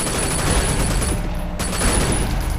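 Machine gun fire in the video game Sleeping Dogs, a dense, steady roar of overlapping shots running the whole time at close range, with no clear gaps or talk.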